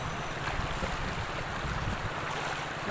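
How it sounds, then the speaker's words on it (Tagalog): Strong current of a clear, wide stream rushes in a continuous, even roar of flowing water, close and steady, with some wind buffeting the microphone. "Ang lakas ng agos ng tubig."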